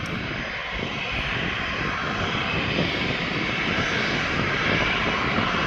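A jet airliner taxis across the active runway onto a taxiway at Birmingham Airport, its engines giving a loud, steady broadband roar that holds constant throughout, with no voices.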